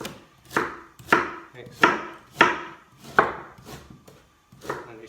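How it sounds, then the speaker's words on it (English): A knife dices a very large peeled celeriac into small pieces, producing about seven loud, evenly spaced chops with a woody knock on the board, close up. A voice speaks briefly. "And then we're just going to chop it up small."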